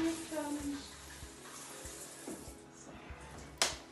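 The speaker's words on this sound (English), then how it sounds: "I'm gonna need more water on my sponge." Water runs from a tap onto a sponge used for wiping down a glass shower screen, a steady broadband splash that carries on faintly to the end, with a brief sharper burst near the close.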